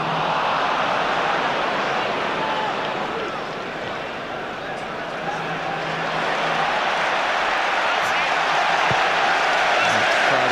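Steady stadium crowd roar from a football video game during an Arsenal versus Manchester United match, a continuous dense wash of distant cheering that swells slightly and holds without a break.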